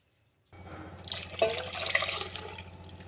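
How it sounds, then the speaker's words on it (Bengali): Water poured into a cooking pot with softened onions, a short splashing, trickling pour that starts abruptly after a moment of quiet and runs at moderate level to the end. "অনেকটাই জল দিতে হবে,"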